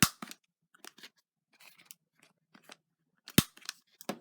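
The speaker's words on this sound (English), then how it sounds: "you would need a corner rounder. So I'm just going to use mine." Quiet, crisp snips and clicks of a corner rounder punch cutting paper, several short isolated crunches with one sharper clack near the end.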